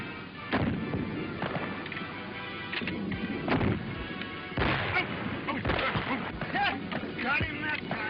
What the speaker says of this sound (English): You missed again. You're shooting like a cross-eyed squall.